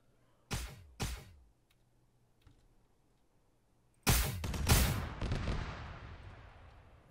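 Heavy weapon firing in ARMA 3 with a Warhammer 40k mod: two sharp booming shots close together, a pause, then a louder blast and follow-up bangs that roll off in a long echoing tail.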